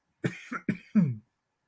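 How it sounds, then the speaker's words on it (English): A short burst of three or four close, raspy coughs, the last one longer and rougher, followed by silence. "I do have a little bit of a cough"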